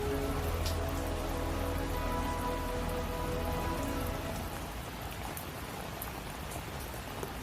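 Heavy rain pours down steadily, a dense, loud patter of drops on surfaces that continues without a break.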